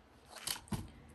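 Scissors trim a junk mail envelope along its edge, giving two quick, close, crisp snips in quiet surroundings.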